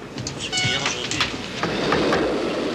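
A passenger train rolls along the rails with a steady rumble and faint clickety-clack, while voices speak over it.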